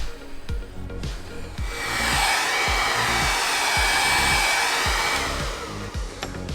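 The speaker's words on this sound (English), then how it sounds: "I'm lucky I took my hairdryer with me on the boat so I can take this off." A hair dryer heats a boat propeller to free it from the prop shaft. It gives a steady, loud, close-up blowing roar, with a rhythmic low mechanical thumping repeating beneath it.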